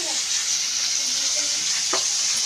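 Tomatoes fry in a hot pan with a steady, fairly loud hiss of sizzling oil and a faint stir partway through.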